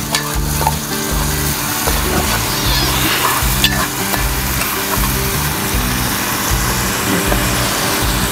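Thinly sliced onions sizzle and fry in hot oil for a seabass fish curry, with steady stirring and scraping against the pan and a low rumbling hum underneath.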